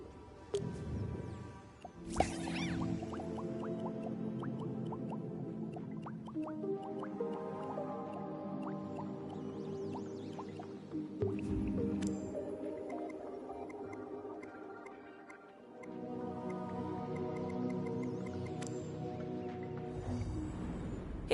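Water drips and liquid plops in the PS4 game Dreams, with a watery, bubbly effect full of tonal burbles and separate drip hits spread over a steady background.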